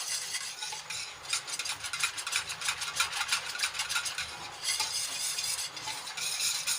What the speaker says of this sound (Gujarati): આ રીતે એકથી બે મિનિટ સુધી હલાવી લેવું